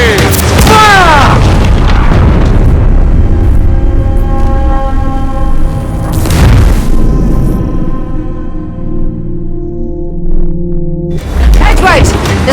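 Ship cannons in Assassin's Creed Black Flag boom in a heavy barrage at the start, again near the middle and at the end, over loud constant sea-battle noise and a lingering ringing tone, with shouted voices.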